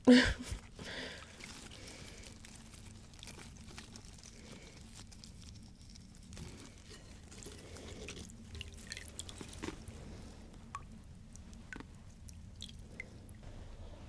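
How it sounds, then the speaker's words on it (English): A houseplant's roots are rinsed while soil is worked loose by hand in a container of water during repotting. Soft, continuous squishing, dripping and sloshing runs close and quiet throughout, with no talking. "me just like massaging soil in water."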